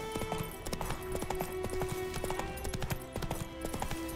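Horse hooves clip-clop at a steady gallop in The Witcher video game, a continuous rhythmic drumming of hoofbeats up close over game ambience.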